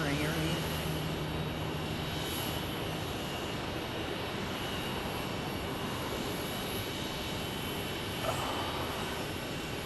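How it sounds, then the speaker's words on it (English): A Boeing 737 MAX starts its jet engines at Phoenix Sky Harbor International Airport. The result is a steady, broad roar with a thin high whine on top, heard from a distance and continuous throughout. "Starting up those max engines."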